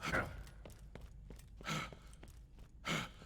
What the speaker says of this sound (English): the fucking heavy breathing is so unnecessary